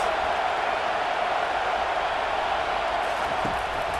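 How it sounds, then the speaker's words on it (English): Stadium crowd in EA Sports College Football 25, a dense continuous roar of many voices holding steady and loud with no breaks. "This crowd trying to make life miserable for this offense."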